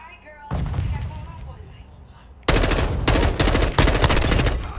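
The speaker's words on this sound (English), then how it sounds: "I shot you from a distance." Gunfire in Call of Duty: Modern Warfare II, with a loud burst of shots followed by heavy rapid automatic fire in several close, punchy volleys. Game noise sits in the background.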